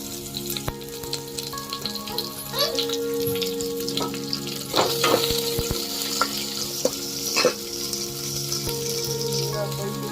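Cumin seeds sizzle and crackle in hot oil for an okra gojju, with dense frying hiss, scattered pops and stirring clatter, close and continuous throughout.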